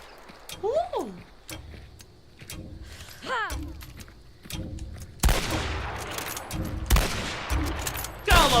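Bolt-action rifle shots in a video game, a few loud sharp cracks spaced seconds apart among clicks and clattering handling, with a person talking throughout.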